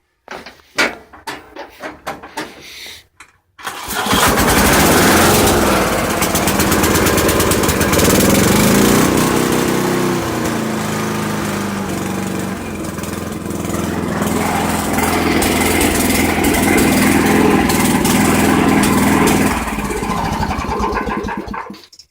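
A Sears ST/16 Craftsman lawn tractor engine cranks in a few short bursts, then catches and runs loud and steady at close range, with a slight change in pitch partway through before it keeps running to the end.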